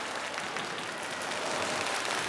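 A studio audience claps steadily after a comedy sketch on a variety show stage, a dense, even wash of applause that stays at constant loudness throughout, with no voices.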